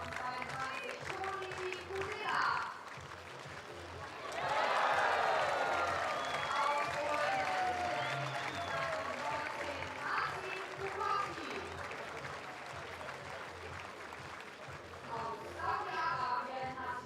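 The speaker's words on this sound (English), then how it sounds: "we are hearing the crowd clapping for Tobias Potye" A stadium crowd at an athletics meeting claps rhythmically for the high jumper Tobias Potye, distant and diffuse, swelling in the middle under ongoing commentary and crowd murmur.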